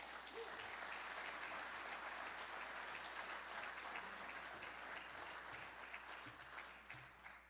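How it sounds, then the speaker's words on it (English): A civic audience at a regional council address breaks into dense, sustained applause that fills the room evenly, then thins out toward the end. "Please, a big welcoming round of applause to Ryan O'Connor."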